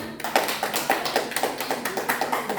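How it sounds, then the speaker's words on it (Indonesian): An audience at a school quiz competition breaks into steady applause, many hands clapping in a fairly even rhythm, close and moderately loud with no talking over it. "Tepuk tangan"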